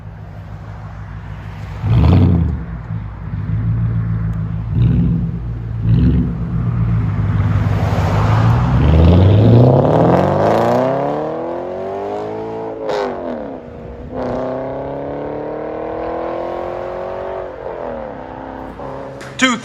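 A 2010 Mercedes CLS 600 with a twin-turbo V12 and stock converters idles with a deep rumble, then revs through a long rising and falling sweep and a second climb, loud and close.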